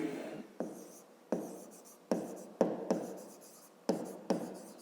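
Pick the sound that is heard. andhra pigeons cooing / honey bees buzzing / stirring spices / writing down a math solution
writing down a math solution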